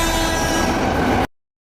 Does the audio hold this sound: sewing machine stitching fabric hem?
no